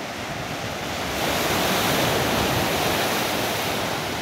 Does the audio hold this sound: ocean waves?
yes